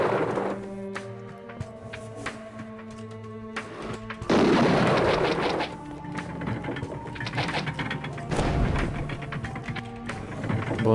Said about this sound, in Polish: One wybuchają i giną po prostu, tak jak Gogi